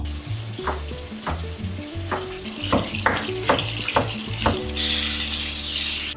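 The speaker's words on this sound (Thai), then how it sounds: "ระหว่างที่เรากำลังเจียวเบคอนด้วยไฟอ่อนช้าๆนะครับ" Bacon fries slowly in a pan over low heat, a steady close sizzle punctuated by a series of sharp scraping or stirring taps, then a brighter, louder hiss near the end.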